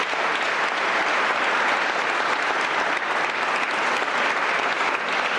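An audience applauds Dottor Fernando Giusto at a public event, a dense, sustained burst of many hands clapping at steady loudness from start to finish, with no speech over it.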